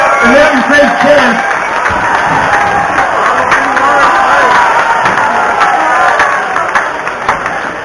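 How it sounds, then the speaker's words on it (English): A crowd at an outdoor chilli competition applauds and cheers continuously, clapping steady and dense with scattered shouts over a busy background. "Round of applause."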